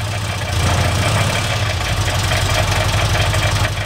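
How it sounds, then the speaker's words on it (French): A car engine idles loudly with a rough, steady knocking rattle throughout, close by and without talking. "il n'y aurait pas comme un bruit dans ton moteur là?"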